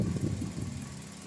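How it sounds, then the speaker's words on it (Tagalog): A Toyota Avanza engine idles smoothly up close, with a low, even rumble and a faint mechanical whir that stays steady throughout, with no voices. "yung andar ng makina, pinong-pino na"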